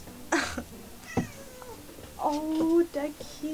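A cat meows several times, short and fairly close, with one longer drawn-out cry, mixed with a few brief voice sounds and light background noise.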